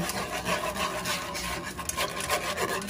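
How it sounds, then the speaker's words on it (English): Whipping cream and creamer are whisked together in a bowl, a dense, continuous rubbing and scraping texture with quick rhythmic strokes and no voices. "We're going to whisk that together."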